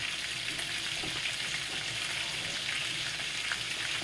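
Onions and mushrooms fry in chicken drippings in a skillet with a steady, close hiss of sizzling and no pauses.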